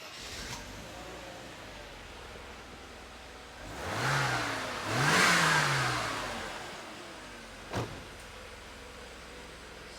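A Mercedes 260E W124 with a flat battery cranks and fires, then its engine revs up in two rising swells before settling back to a steady idle, close by with no talking.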